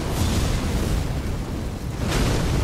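A fiery blast from the Flame of the Fell God in Elden Ring gives a loud, broad roaring rumble that swells, dips briefly and surges again, with no speech.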